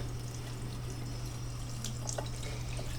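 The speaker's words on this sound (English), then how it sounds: "Constant water flow to rinse the water out." Steady tap water runs continuously while makeup brushes are rinsed clean at a sink, a constant low rushing flow with faint clinks and splashes near the end.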